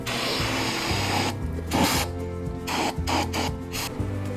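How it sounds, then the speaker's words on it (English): Brake cleaner is sprayed onto the hub and brake disc of a 1997 Land Cruiser FZJ80 during a spindle and hub rebuild: close, loud hissing bursts broken by short pauses, with no talking. "Clean the inside of the hub and the brake disc with brake cleaner."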